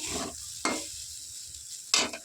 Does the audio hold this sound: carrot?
yes